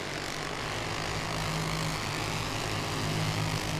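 Champ karts racing at Langley Speedway at about 65 miles an hour, a loud, steady, broadband engine roar that fills the whole stretch without pause or any voices.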